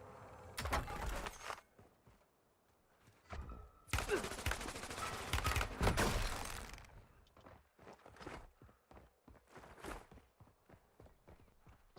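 Automated turret gunfire in the battle royale shooter Warzone, dense rattling bursts of rapid shots broken by pauses, then trailing off into scattered individual cracks.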